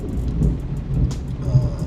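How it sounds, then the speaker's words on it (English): Heavy rain falls steadily outside a gym, with a low rumble of thunder rolling underneath, fairly close and continuous. "You're gonna have to excuse the noise in the background. It's raining currently where I'm at."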